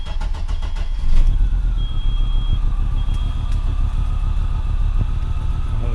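An Audi S4 C4 engine idling roughly on five cylinders with faulty wiring, a steady uneven low rumble with a lumpy pulsing beat and a brief high whine, close and loud, without talking.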